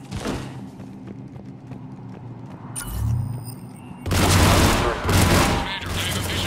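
Cannon fire and gunfire in the video game Mass Effect 3 make a dense, continuous barrage with a deep rumbling swell midway, then a loud burst of heavy firing that stays intense to the end.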